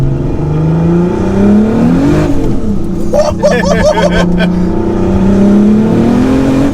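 A modified sleeper car's engine revs with a screamer pipe, a loud, close drone that rises and falls in pitch, with voices talking briefly over it midway.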